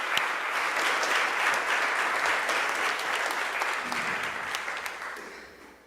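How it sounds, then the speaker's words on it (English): An audience at a community unity awards ceremony gives sustained applause for the awardees, a dense, even wash of many clapping hands that holds steady, then fades out. "Let's clap one more time for our awardees."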